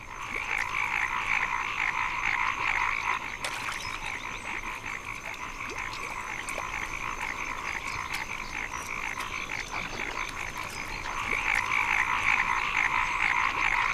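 A dense chorus of frogs croaks steadily in a wild Indochina landscape, many overlapping calls forming a continuous buzzing drone with occasional sharper clicks, no voices present.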